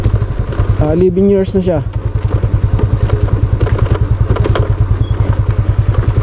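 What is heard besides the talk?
motorcycle engine running, stock 2013 motorcycle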